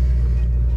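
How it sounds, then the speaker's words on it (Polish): Audi A8 D3 with the BFM engine, just started and running on LPG: a steady low engine rumble at close range, even and continuous with no talk over it. "Odpalamy sobie teraz silnik"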